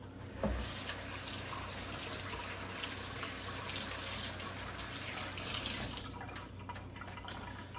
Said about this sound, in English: Wash my hand.